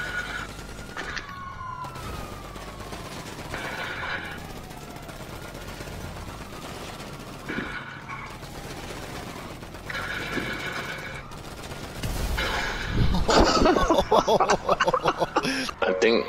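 Gunfire in GTA 5 Online roleplay comes as scattered bursts of shots between stretches of people talking and laughing, then grows louder and more rapid toward the end, with a siren-like wail in the mix.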